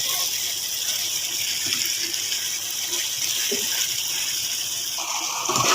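Tap water running steadily into a kitchen sink while an onion is rinsed, a continuous close gush with slight splashing changes toward the end.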